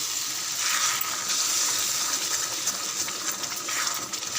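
Water streams steadily into a hot pan of frying tomato chutney, a continuous gushing, hissing pour lasting several seconds with no voices.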